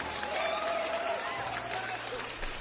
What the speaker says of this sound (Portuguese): Aplausos para os nossos queridos ouvintes.